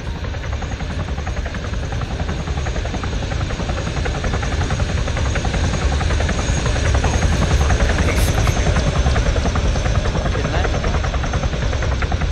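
A helicopter in the video game Arma 3 flies high overhead, a steady loud engine and rotor drone that runs unbroken through the whole stretch.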